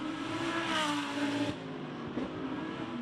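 An Audi GT race car engine roars loudly and steadily as it passes during a practice session at the Macau Grand Prix street circuit, holding a sustained high-revving drone with a brief dip midway.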